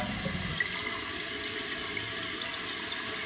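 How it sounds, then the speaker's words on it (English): A toilet with a faulty fill valve flushes, and water rushes steadily through the bowl and tank in a continuous even hiss, close but moderately quiet, with no voices. "And if we flush the toilet"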